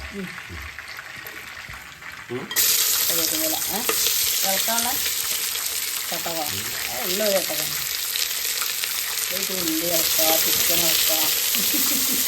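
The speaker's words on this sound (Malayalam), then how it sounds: "ചിക്കൻ കറിക്ക് വേണ്ടിയിട്ട് വെളിച്ചെണ്ണ ഒഴിച്ചിട്ടുണ്ട് അല്ലേ?" Coconut oil frying in a pan for chicken curry: a steady, loud hiss and sizzle breaks out after a quiet start and carries on, with a voice talking over it throughout.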